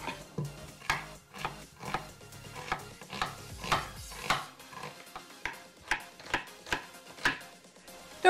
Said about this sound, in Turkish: Soğanlarımızı yarım ay şeklinde doğruyoruz.